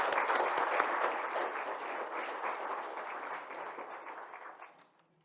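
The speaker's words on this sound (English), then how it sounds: "Let's give them a round of applause also." Dense applause from the crowd at a Colorado engineering awards luncheon, strong at first with a few sharp claps, then thinning steadily and fading out to near silence.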